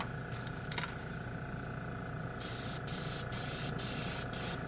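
A no-clean airbrush sprays auto paint in short hissing bursts, several sprays repeated in quick succession after a quieter start with faint handling noise.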